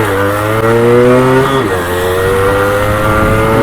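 A Yamaha RX 135 two-stroke motorcycle engine revs loudly and close, its buzzing harmonics climbing, dipping briefly mid-clip, then holding a steady high-pitched drone.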